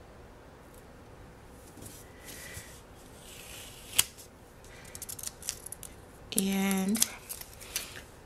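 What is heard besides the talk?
scissors cutting a paper sticker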